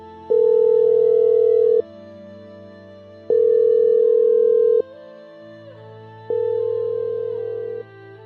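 A telephone ringback tone sounds in three long, evenly spaced pulses, loud and clear with a faint hum between them.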